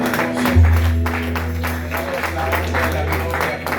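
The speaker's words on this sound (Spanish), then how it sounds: "¿Cuántos pueden darle ese aplauso fuerte a todo el mundo?" A church congregation applauds during a service, a rhythmic wash of clapping underneath a loud, steady musical hum and voices.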